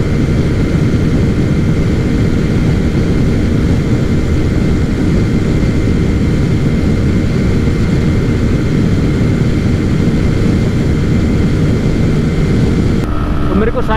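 A TVS Raider 125 motorcycle engine runs hard at high speed during a drag race against a Pulsar 125, a steady, loud roar mixed with heavy wind rush that holds for the whole stretch.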